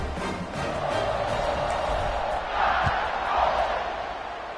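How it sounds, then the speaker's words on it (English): A stadium crowd in a college football video game cheers in a broad, steady roar during a kickoff, swelling slightly partway through, with a commentator's voice over it. "this crowd is feeling themselves after that last drive"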